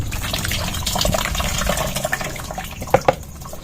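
Cow manure slurry, stirred smooth for worm feed, is poured out in a continuous wet gushing flow, close and fairly loud, ending with a few heavier drips and splashes.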